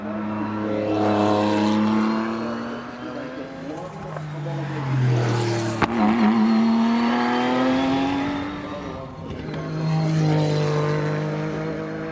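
A late-1990s Porsche GT1 Le Mans race car climbing a hill, its engine droning and rising through gears at close range, passing by with loud sweeping pitch changes while a voice talks underneath.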